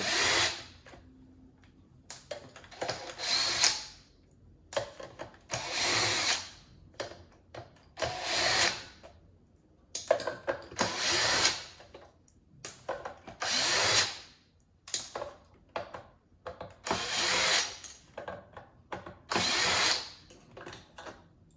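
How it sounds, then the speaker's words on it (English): A cordless power drill removes the screws from an Asus PG27UQ monitor stand in about nine sharp, whirring bursts, each lasting a second or so, separated by short pauses. The drill is close and loud. "all I know is a drill makes it a lot faster"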